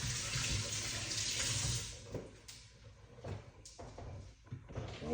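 Kitchen tap water runs into a sink or glass, a loud steady hiss that tapers off midway, followed by softer splashes and small clunks.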